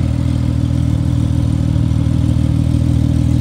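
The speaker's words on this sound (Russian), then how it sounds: "Выхлоп, выхлоп, выхлоп." A steady, loud sports car engine rumble drones throughout at a constant pitch, close by, with a rough throaty exhaust note but no clear revs.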